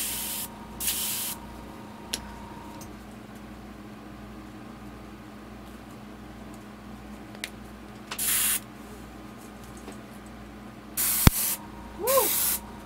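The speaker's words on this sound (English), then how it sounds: "You spray painted me yellow." Aerosol spray paint can hissing at a custom fishing lure in several short close bursts separated by quiet gaps, with a faint background hum and a sharp click near the end.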